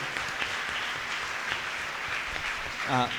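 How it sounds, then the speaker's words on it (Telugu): Audience clapping at a church festival celebration in Yelamanchili, Visakhapatnam, a dense steady patter of many hands that lasts throughout, with some talking under it and a voice rising near the end. "గట్టిగా చప్పట్లు కొడదాం"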